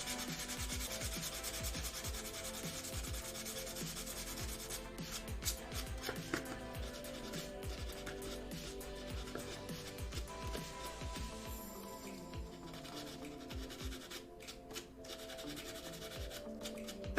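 Hand sanding of a wooden cosplay prop, with continuous scratchy rubbing strokes in a steady back-and-forth rhythm, close and fairly quiet, with no talking.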